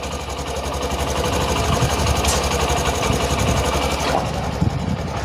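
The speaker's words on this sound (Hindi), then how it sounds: "स्टार्ट हुई बाइक। आइडल पे छोड़ देना है।" A BS6 motorcycle engine idles just after starting, a steady, fast mechanical chatter close by, continuous and fairly loud, with a faint click near the end and no talk.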